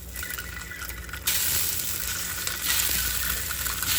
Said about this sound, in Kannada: ನೋಡಿ ಸ್ವಲ್ಪ ನೀಟಾಗಿ ರೋಸ್ಟ್ ಮಾಡ್ಕೋಬೇಕು.